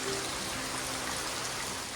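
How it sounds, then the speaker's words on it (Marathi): Heavy rain falls steadily on a Konkan village during the monsoon, a dense, even hiss of downpour with no pauses, close and continuous without any voices. "आता परत जोरात पाऊस आला"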